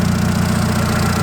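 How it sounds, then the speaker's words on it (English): A 2007 Seat Ibiza 1.4 engine idles close by after an oil and filter change, a steady low chugging hum with an even pulse and no other sounds over it. "So I'm going to leave this idling for a little while."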